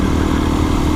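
Adventure motorcycle cruising down a dirt road in fifth gear at about 45, its engine a steady, loud, close drone with a low thrumming pulse throughout and no voices.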